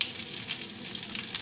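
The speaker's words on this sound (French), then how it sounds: "Le gyoza japonais, on fait griller un seul côté" Japanese gyoza searing on one side in a hot pan over lowered heat, giving a steady, fairly quiet, continuous sizzle and crackle with no talking.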